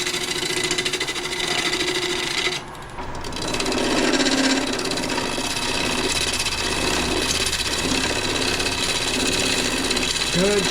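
Woodturning lathe with a tool cutting into spinning wood, a steady, continuous whirring and scraping hum that runs throughout with a brief dip partway, close and fairly loud.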